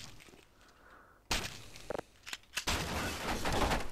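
Weapons fire in Half-Life VR comes in a few sharp shots and then builds into a loud, dense stretch of rapid firing after a quieter opening.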